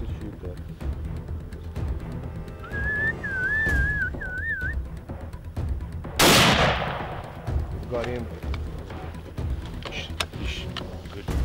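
A single sharp rifle shot fired at a zebra on a South African hunting safari, cracking loudly midway through, preceded by a short melodic whistle and surrounded by soft outdoor rustling and quiet voices.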